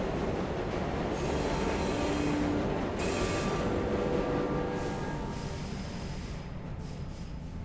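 A train in the video game Luna Abyss pulls into its terminus with a steady rumbling roll and occasional thin wheel squeals, a continuous mechanical wash that eases slightly toward the end.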